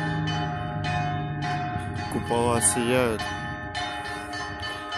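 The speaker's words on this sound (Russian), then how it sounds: "Праздничный перезвон." Festive church bells ring out for Orthodox Epiphany, a bright layered peal of overlapping strikes carrying on across the whole stretch, with someone speaking briefly over the ringing midway.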